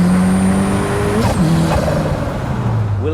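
An Ariel Atom 3S with a 2.4 litre Honda VTEC engine roars loudly up close, its pitch climbing and dropping through gear changes with a touch of tire noise, continuous and intense.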